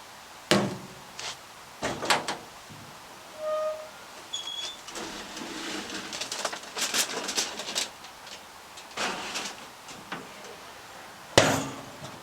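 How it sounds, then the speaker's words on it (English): An oven door opened and closed while checking beef riblets partway through cooking, giving several sharp clunks and metallic knocks spread over a quiet background, with brief thin squeaks between the impacts. "Close the door to maintain the heat."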